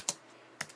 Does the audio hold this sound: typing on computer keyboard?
yes